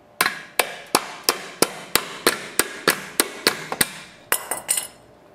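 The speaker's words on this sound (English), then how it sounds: "we're going to take the hammer and we're going to tap the corner to remove it" Fourteen sharp hammer taps strike a sliding screen door corner at a steady pace, with a quicker cluster of three near the end, close and crisp with no talking.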